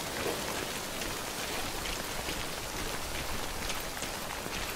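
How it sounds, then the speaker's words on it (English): Steady rain hisses across the open landscape of Death Stranding, a constant broadband wash of falling drops on the ground with no other sounds and no voices. "Tired of the rain, Sam? Is it raining?"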